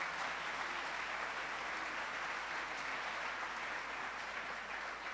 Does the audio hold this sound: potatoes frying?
no